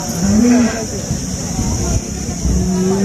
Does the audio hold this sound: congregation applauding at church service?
no